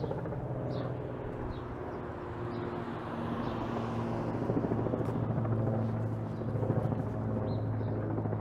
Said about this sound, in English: There's a helicopter just rolling around up there.